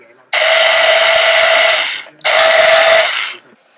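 An electric drill bores a hole through a recycled paper Halloween craft piece, giving two sustained close whirring bursts, the first longer than the second, with a short pause between them.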